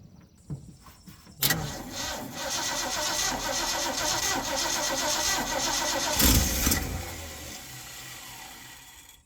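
An old Ford F100 truck engine cranks with a rapid whirring starter, then catches and runs loudly up close with a brief rev before settling to a rough idle.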